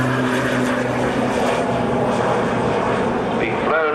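A three-engine helicopter sits with its rotor turning at an airshow, producing a steady loud droning engine and rotor hum throughout with a faint rising whine near the end.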